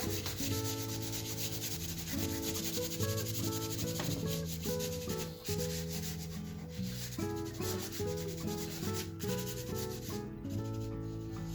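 Pastel is rubbed into paper with a fingertip, a close, continuous scratchy rubbing made of many short back-and-forth strokes, soft but textured and uninterrupted by voices.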